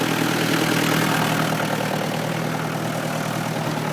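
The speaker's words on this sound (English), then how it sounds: "This is Precious. My favorite tractor." A farm tractor's engine idles close by, giving a steady, continuous low rumble with no talk over it.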